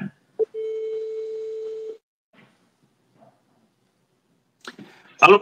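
Telephone call ringing out, one steady tone held for about a second and a half after a short click, followed by silence and then brief voices near the end.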